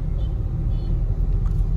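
Heavy, slow road traffic on a busy Diwali day is heard from inside a car: a steady low engine and road rumble, dense and continuous, without clear talk.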